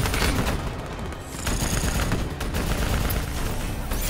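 Sustained automatic gunfire from a Call of Duty: Black Ops 3 battle, loud overlapping bursts and booms that dip briefly and then roar back at full intensity.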